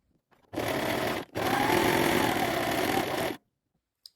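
A sewing machine stitches the folded ends of a fabric ruffle together in two close, loud runs of rapid mechanical whirring, the first short and the second longer, with quiet before and after and no talking.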